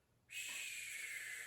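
Snow sliding and shedding off a roof gives a sudden soft hissing rush that starts abruptly and keeps going as a steady, faint, airy swish, with no talking.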